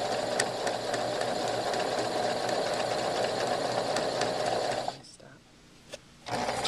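A sewing machine runs steadily while stitching a half-inch seam along a fabric edge, a continuous close whirring drone that stops abruptly near the end, followed by a brief pause and a click before the motor resumes.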